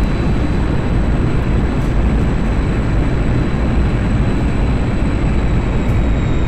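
A MiG-21bis jet engine roars on full afterburner in the DCS flight simulator game, a loud, dense and unbroken wall of engine noise with no speech.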